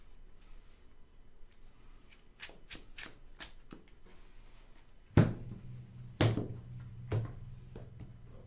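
Soft riffling and a few sharp slaps of Magic: The Gathering cards being handled, followed by several louder snaps as the deck is shuffled and bridged, up close.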